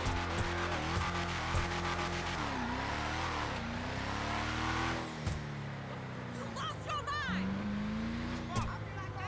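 A Declasse Walton L35 truck in GTA Online revs its engine repeatedly, and the pitch rises and falls over a steady drone. Someone talks over parts of it.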